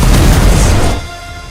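A giant cannon fires as a sound effect: a loud, booming blast fills the first second with heavy low-end rumble, then cuts off and leaves a quiet tail.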